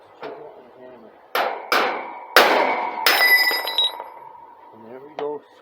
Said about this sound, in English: Big ass chisel and hammer.